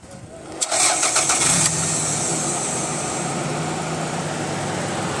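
A 1999 Toyota Camry at a used-car market cranks with a rapid, rattling starter burst for about a second, catches, and then settles into a steady, loud, close idle that continues evenly to the end.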